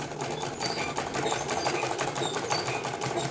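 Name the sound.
sewing machine stitching fabric along paper shape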